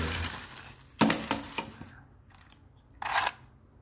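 A shot from a tuned BM P377 air rifle smashing a plastic keratin tank bottle: a sharp crack and shattering burst, then scattered falling debris rattles and another brief burst, fairly close.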